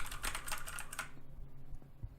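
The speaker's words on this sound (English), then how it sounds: "mechanical keyboards have a lot faster input time than mesh keyboards, just due to using actual switches underneath the keycaps" Quick bursts of keystrokes on a mechanical keyboard with switches under the keycaps, a dense clatter for about a second followed by a few scattered, softer key presses, fairly quiet and close.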